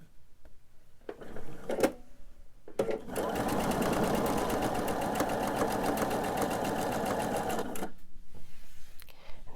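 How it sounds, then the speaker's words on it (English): A quilting sewing machine stitches fabric pieces in a rapid steady run of several seconds, bracketed by short clicks and handling noises before and after. "I'm going to come back to sew this one so that I don't waste any thread"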